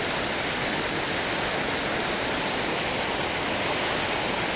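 Fast-flowing, near-full river at Glenashdale Falls near Whiting Bay on the Isle of Arran, a loud, unbroken roar of rushing water running steadily throughout.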